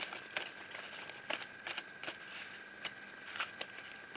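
Oracle cards for a love reading being shuffled, with soft, repeated papery flicks and rustles at a close, quiet level.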